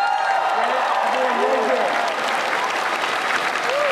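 Convention crowd applauding at a BlizzCon 2010 comedy set, dense sustained clapping across a large hall with a few faint cheers mixed in.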